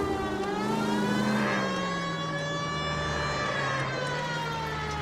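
Police car siren in the L.A. Noire video game, a steady wailing tone sweeping slowly up and down over engine rumble, loud and continuous throughout.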